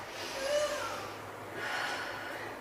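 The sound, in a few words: deep breath during a workout stretch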